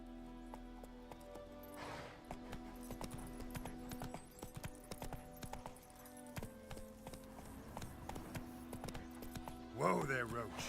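Roach the horse clip-clopping along in The Witcher 3 video game, steady hoofbeats under game music and voices, with a brief whinny near the end.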